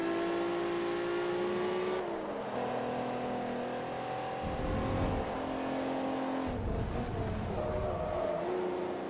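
A racing car engine in the Forza Motorsport 3 video game, revving high and steady, then dropping with gear shifts and rumbling bursts before climbing again, loud and alone.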